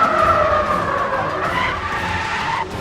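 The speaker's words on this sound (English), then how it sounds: "This is all the logic that goes into just playing this tire skid sounds." Car tires skid and squeal at high speed in the racing game Need for Speed The Run, a loud continuous screech with wavering pitch that holds for nearly three seconds before dropping off slightly at the end.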